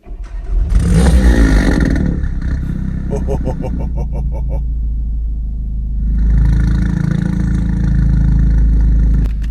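A tuned 460bhp VW Golf R engine cranks and fires up loudly, catching with a sharp rev before settling into a deep, steady, rumbling idle close by.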